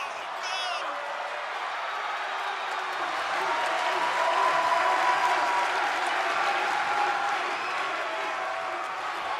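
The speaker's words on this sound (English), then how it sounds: "Listen to this ovation. The WWE Universe loves cheering on the EST." A WWE 2K24 arena crowd roars in sustained ovation, dense applause and cheering that swells toward the middle and stays loud, with a commentator's voice over the top.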